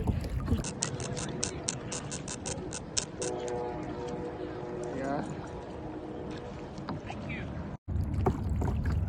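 Water sloshes and splashes around a kayak paddled outdoors in San Diego, steady close watery movement with sharp ticking clicks early on and people chatting throughout.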